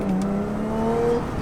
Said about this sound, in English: Dude, this car pulls pretty good.